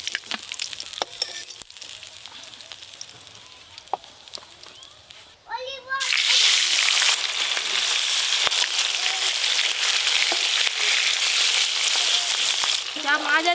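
Large steaks of a 4 kg silver carp frying in oil. A quiet stretch with scattered clicks and faint voices gives way to a sudden loud, continuous sizzle that holds steady to the end.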